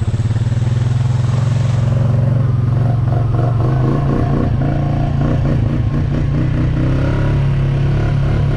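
A motor vehicle plows through a shallow creek, its engine rumbling loud and steady close by, with clattering and knocking layered over the drone throughout.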